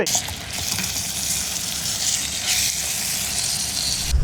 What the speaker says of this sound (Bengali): এবার আমরা কিছু সবজি ভাজি করে নিব